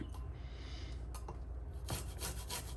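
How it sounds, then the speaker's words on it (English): Rhythmic scraping of a fine kitchen rasp grating salad ingredients, close and fairly quiet, with repeated rubbing strokes and no talk. "And I decided to use the rasp."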